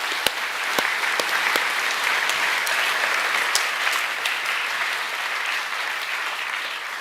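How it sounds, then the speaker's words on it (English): Sustained audience applause at a school co-curricular awards ceremony, honouring the sports department; dense, steady clapping from a large crowd lasting throughout, with a few sharper individual claps standing out near the front. "just one more round of applause too for Mr. McCluskey and the Sports Department."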